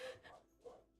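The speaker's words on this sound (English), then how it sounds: "It's the dog next door." A neighbouring dog barks from next door, distant and faint, with a couple of short muffled yips spaced apart against quiet indoor background.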